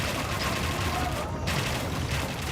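Bombard cannons firing in an Age of Empires match, a dense, continuous barrage of overlapping booming shots and rattling blasts with no letup.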